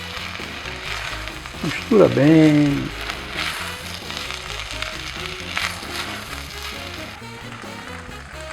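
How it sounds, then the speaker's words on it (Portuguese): Rice sizzles and crackles steadily as it fries in a pan for fluffy rice, with occasional stirring scrapes and someone talking over the cooking. "E já pode botar o arroz. Dá uma fritadinha nele aqui assim."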